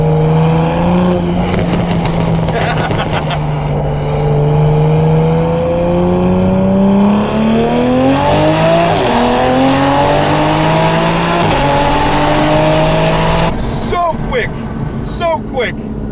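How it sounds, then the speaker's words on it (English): A 2020 Toyota Supra drives under an underpass, its exhaust burbling and revving as engine pitch climbs through gears with a hint of turbo, loud and close, while a person talks over it. "It makes such nice burble sounds underneath that underpass, and then when you get on it, you get that hint of turbocharger sound."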